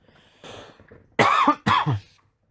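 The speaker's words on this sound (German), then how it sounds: "Okay, jetzt muss ich kurz husten, es tut mir leid." A faint rustle, then two sharp, loud coughs close to the listener, the second following quickly after the first.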